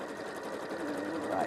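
A sewing machine stitches a zip and lining, running in a steady, continuous mechanical whir close by, with a person talking over it.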